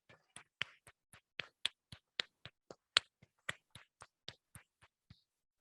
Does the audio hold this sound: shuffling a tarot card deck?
no